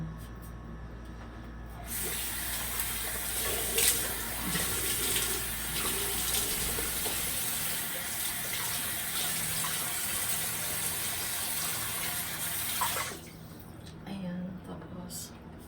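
Tap water runs steadily into a sink for rinsing while removing makeup, a close hissing splash that starts after a short pause and carries on for about eleven seconds before stopping.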